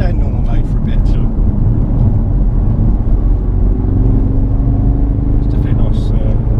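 Guttural engine note of a Ford Focus RS MK2, synthesized and played through the cabin speakers, a steady low rumble filling the car while people talk over it.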